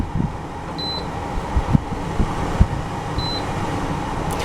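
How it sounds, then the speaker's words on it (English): A Danby 70 pint dehumidifier's fan runs on its low setting, giving a steady, even whir that fills the room, with two short electronic beeps and a few light knocks, and no talk. "Press it once, fan is on the low setting."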